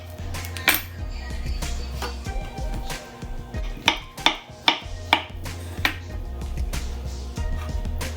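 Bananas sliced for banana pudding in a home kitchen, a steady series of soft knife taps and clinks against a dish with a few sharper knocks midway, close by over a low background hum, with no talking.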